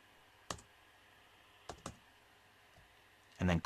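A few quiet keystrokes on a computer keyboard in short sparse taps, then a louder cluster of clicks at the end, close in a quiet room.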